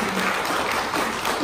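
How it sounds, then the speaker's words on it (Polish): A concert audience applauds after a performance of the Warsaw Concerto in Siedlce. The clapping is a dense, even wash that stays steady through the short stretch, with no voices. "Wielkie brawa, to był właśnie koncert warszawski."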